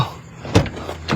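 A car door thuds shut with a short dull impact, followed by a faint second knock, close by at night.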